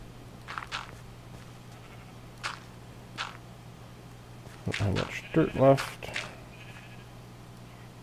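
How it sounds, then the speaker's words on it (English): Minecraft sheep bleat in short, wavering calls, one loud burst clustered near the end, while someone talks over a steady low hum. "Hey, sheep!"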